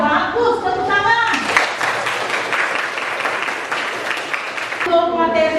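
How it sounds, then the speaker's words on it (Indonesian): Students in an Indonesian-language school class clap together for roughly three seconds in a steady burst, with a teacher speaking just before and right after. "ya bagus, tepuk tangan"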